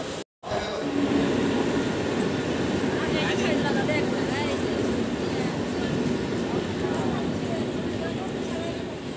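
A train rumbles and clatters continuously at a railway station, a loud steady mechanical roar with faint squeals, following a brief dropout at the start.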